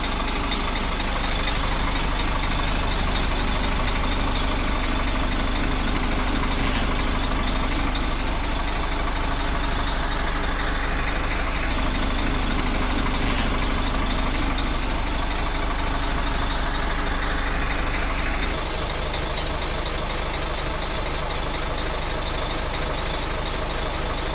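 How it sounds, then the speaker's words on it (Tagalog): A truck's diesel engine idles steadily nearby with a dense, constant low rumble and hum that runs nearly unchanged throughout, with no talk over it. "So, ito yung engine natin guys."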